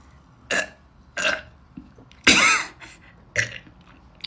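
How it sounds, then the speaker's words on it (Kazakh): After a fizzy drink, a person lets out several separate burps, short and throaty, one louder and longer in the middle, close to the listener. "Жақсы екен кекіртеді."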